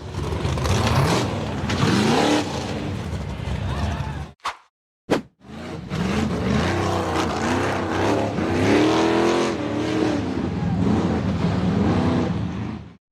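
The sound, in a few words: off-road buggy engine revving while climbing a steep rock face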